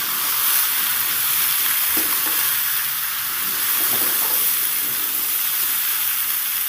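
Papaya, potato and carrot pieces frying together in oil for chicken stew, a loud continuous sizzling hiss with faint stirring scrapes.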